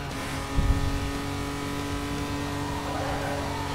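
A Toyota car engine drones steadily through a drag race in Need for Speed Most Wanted, with a brief louder rev surge near the start before the motor settles into a sustained, even roar.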